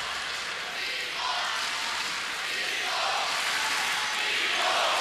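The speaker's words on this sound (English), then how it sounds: "we can hear what the crowd think of it" Arena crowd at a China versus Germany table tennis match, a steady loud roar and murmur that swells slightly, no clear voice above it.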